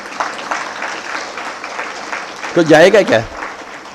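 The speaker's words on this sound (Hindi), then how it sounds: "तालियां बजाएंगे तो क्या जाएगा आपका?" An audience claps steadily and fairly softly through a spiritual talk on Bhaj Govindam verses and meditation. A voice then speaks loudly over the fading applause.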